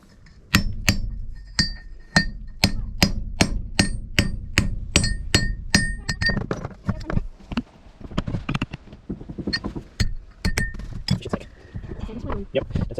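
A hammer drives a new bushing into a front axle on top of the old bushing, a rapid run of loud, ringing metallic blows in a steady rhythm, then more irregular strikes and clinks.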